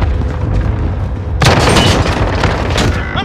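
Gunfire and explosions from the Call of Duty: Modern Warfare video game: a rumbling low backdrop gives way to a sudden loud boom and a dense stretch of rapid gunshots and blasts.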